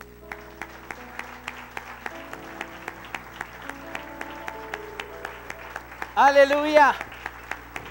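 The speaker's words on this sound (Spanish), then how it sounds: "Dele un aplauso al Señor." A church congregation claps in a steady, rhythmic beat during worship, the claps sounding over sustained organ-like music. A voice briefly calls out near the end.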